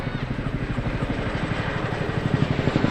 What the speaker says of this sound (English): You can hear that aircraft fighting the air now.